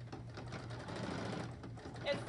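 A sewing machine runs steadily through free-motion stitching on a fabric panel floral, a continuous close mechanical whir with fast needle ticks and slight speed changes, with a voice talking faintly over it.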